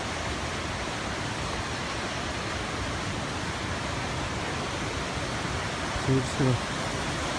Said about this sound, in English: Apparently the last waterfall is right around here.